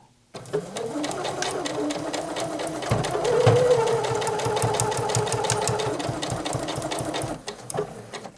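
A Janome 8077 sewing machine runs steadily for several seconds, its needle rattling in a fast even rhythm with a motor hum underneath, starting abruptly and slowing near the end, close and moderately loud.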